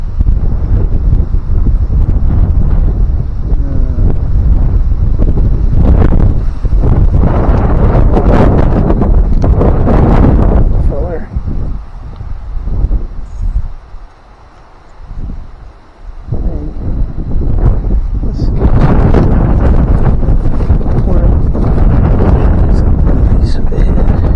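Strong outdoor wind roars and buffets the microphone almost continuously, easing briefly in the middle before gusting hard again, and faint voices are heard beneath it.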